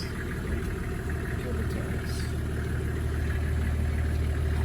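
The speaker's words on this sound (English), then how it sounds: "The engine sounds very nice." A vehicle engine idles with a steady low rumble after starting, running evenly at moderate loudness with a few faint clinks and some background voices.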